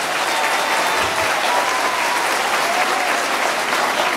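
Dense, steady applause from a church congregation at an outdoor Catholic gathering with a priest, clapping continuously and fairly loud throughout with no voices over it.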